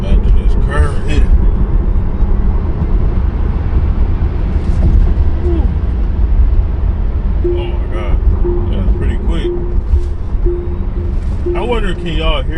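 Tesla pulling hard from a 40 mph roll at night, a steady loud road and drivetrain drone with a thin rising whine tone, and a voice talking over it.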